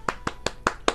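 Five crisp hand claps in a steady, quick rhythm, close and fairly loud, with nothing else around them.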